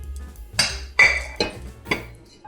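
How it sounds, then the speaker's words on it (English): A big cooking pan clanks as it is handled in a home kitchen: four or five sharp metallic knocks and clinks spaced about half a second apart, close up and moderately loud, with no talking. "I'm going to get a big pan"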